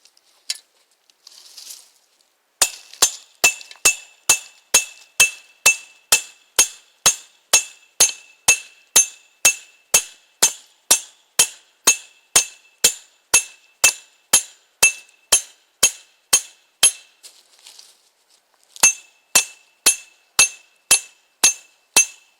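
A blind stake is driven into the ground using a piece of 1/2-inch rebar, producing a long steady run of sharp metallic clinks, roughly one or two per second, close and bright, with a brief pause near the end.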